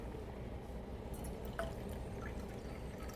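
Water poured into a cup already holding about a third of a cup of milk, a soft continuous trickle and splash heard close by and quietly, with no talking.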